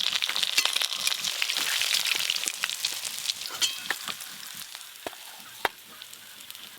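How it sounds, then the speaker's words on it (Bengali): Pomfret (rupchand) frying crisp in hot oil, a steady close sizzle with scattered sharp pops and crackles that thin out toward the end, no voices. "এদিকে এই সব মাছগুলো লাল লাল করে একদম কড়া করে ভেজে নিয়েছি"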